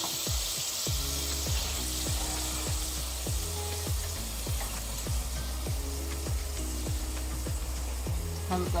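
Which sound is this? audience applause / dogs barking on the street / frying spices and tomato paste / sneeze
frying spices and tomato paste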